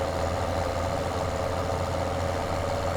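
A tractor engine idles in a farming game, a steady, loud, close rumble with a low droning hum and even texture that holds unchanged from start to finish, with no talk over it.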